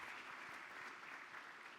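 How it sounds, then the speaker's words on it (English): Audience applause after a speech at a seminar, a steady dense clapping that fills the whole short stretch at moderate distance, with no voices over it. "he really deserves another round of applause"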